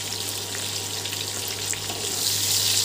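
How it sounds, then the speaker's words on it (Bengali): Raw green mango pieces fry lightly in a pan at home, a steady close sizzle with crackling hiss continuing throughout, growing slightly louder toward the end. "এবার আমি আমগুলোকে হালকা করে ভেজে নেব।"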